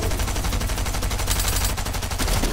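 Dense, continuous gunfire from a Fortnite match in a competitive tournament, rapid overlapping shots filling the whole stretch at steady loudness with no talk over it.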